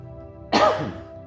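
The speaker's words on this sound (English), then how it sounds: "As I cough." A single harsh, forceful cough bursts out close up after a moment of quiet, then trails off.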